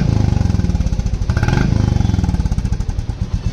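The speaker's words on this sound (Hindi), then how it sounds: "और ये वाला जो साउंड है वो आपका कैटकिन लगा के आ रहा है" Royal Enfield Classic 350 Reborn single-cylinder exhaust with the catalytic converter fitted, a loud, steady thumping idle with even rapid pulses and a brief throttle blip in the middle, close up with no talking.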